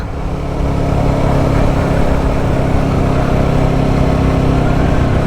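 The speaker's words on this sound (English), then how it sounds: "Lots of character from that there engine, of course." A BSA Bantam 350 single-cylinder motorcycle pulls uphill in fourth gear with a steady, loud, low engine drone and wind rush, with no talk.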